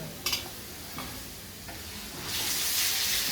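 Garlic paste hitting fried onions in a hot pan, a few faint taps and scrapes first, then a sudden swell of bright, loud sizzling that keeps going to the end.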